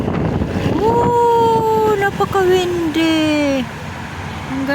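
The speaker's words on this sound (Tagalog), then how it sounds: "Super windy." Strong outdoor wind batters the microphone with a loud, continuous low rumble and roar, while a voice sounds faintly over the gusts.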